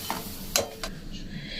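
Gaja sweets frying in refined white oil, a soft steady sizzle with a couple of scraping stirs, close and alone.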